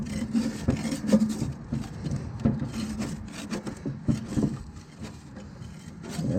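Scraping and rubbing as packed grass and debris are cleared from under a John Deere 1025R mower deck, irregular close scratchy strokes over several seconds.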